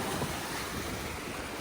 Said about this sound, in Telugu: మొత్తం ఇట్లా సముద్రం ఇట్లా ఉప్పొంగుతున్నాడు.